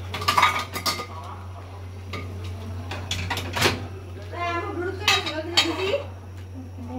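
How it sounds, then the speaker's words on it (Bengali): Metal utensil scraping and clinking against a pan while stirring a chicken and cabbage dish, a steady series of close scrapes and taps over a constant low hum, with voices talking in the background. "এই যে এখন একটু নেড়ে ছেড়ে দিচ্ছে।"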